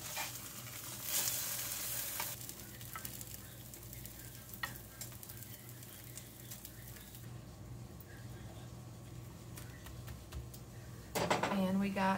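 Eggs sizzle steadily in a frying pan with occasional scraping and clinks of a utensil against the pan as they are flipped, then a louder clatter near the end.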